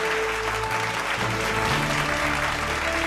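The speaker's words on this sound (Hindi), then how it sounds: "जोरदार तालियां बजनी चाहिए।" Loud, sustained applause from a conference audience welcoming a speaker, the Uttar Pradesh deputy chief minister, onto the stage, steady clapping filling the hall throughout with faint tonal hum underneath.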